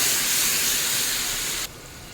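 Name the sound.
garlic frying with onion-tomato paste in a pan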